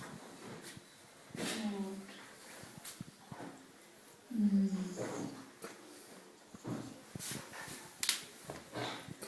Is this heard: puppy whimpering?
yes